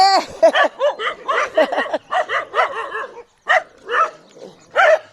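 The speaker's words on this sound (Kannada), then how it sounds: "ಹೊಸ್ದಾಗಿ ಬಂದೀವಲ್ರಿ, ಒದರ್ತಾವ ನಾಯಿ." Repeated dog barks in quick succession, fairly close, with excited yips and a short pause midway.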